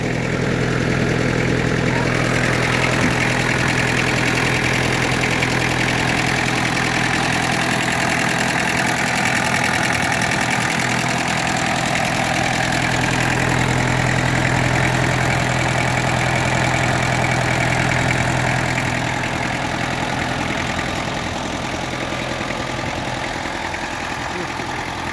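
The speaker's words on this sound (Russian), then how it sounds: "Четырехцилиндровый двигатель" A Kubota mini tractor's four-cylinder engine idles steadily and loudly, a continuous even drone with low rumble and no pauses, close by throughout.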